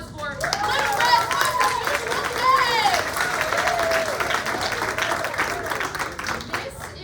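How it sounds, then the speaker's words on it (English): An audience claps and cheers before a children's opera, Little Red's Most Unusual Day, at a college performance. The applause is steady and full, with voices calling out over it. "let me have a big round of applause for Little Red"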